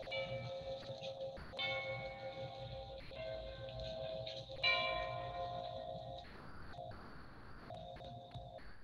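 Chimes ring out at the White House Christmas tree lighting near the south portico, sustained bell-like tones sounding repeatedly through a vintage radio broadcast, moderately faint over a steady hiss.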